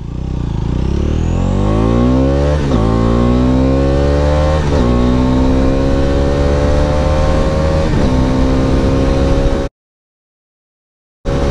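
A 250cc city motorcycle accelerates hard from a standstill toward 100 km/h, the engine revving up loudly through several gear shifts with brief dips between them, close and continuous, then cutting off abruptly near the end.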